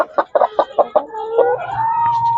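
A rooster clucks in a quick series of short calls, then lets out a drawn-out, rising cry, close by.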